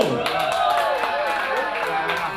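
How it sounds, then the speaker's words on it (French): An audience claps along at a lively Afrobuzz show in Douala, the clapping mixed with crowd noise and shouting voices over loud music with sliding tones. "Et on applaudit."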